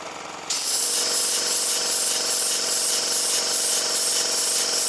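After a brief quieter moment, a double Tangye mill steam engine starts up, its steady mechanical hiss and rhythmic chuffing running continuously, loud and close, with a regular pulsing beat.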